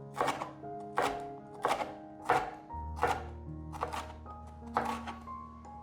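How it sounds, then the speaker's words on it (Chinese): A knife slices a red bell pepper into strips on a cutting board with about seven distinct, evenly spaced chopping thuds, close and crisp, over soft background music. "把红甜椒切成条状"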